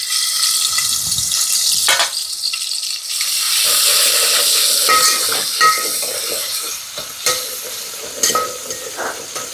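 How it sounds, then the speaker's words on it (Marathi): Garlic sizzling and frying in hot oil for a village-style chicken curry, a steady bright crackle with occasional stirring scrapes against the pan, close and continuous, no talking. "लसण लालसर होऊ द्यायचा तेलामध्ये."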